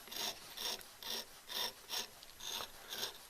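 Trimming tool rasping against a leather-hard handmade clay bowl, eight even rhythmic scraping strokes about every half second, close and moderately loud with no talk.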